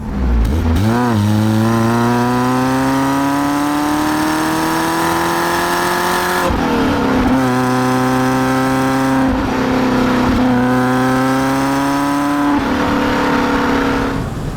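Peugeot 205 GTI 1.6 hot hatch engine heard loud and close during drive-bys, revving up through gears with rising pitch, a brief lift-off and shift around the middle, then pulling hard again.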